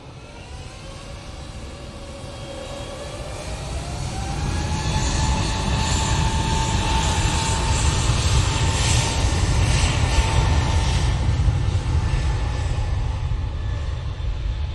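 Airliner departing Manchester Airport for Lisbon: a broad, steady jet roar that swells after a few seconds and holds strong, with a rising engine whine layered over the rumble, no voices.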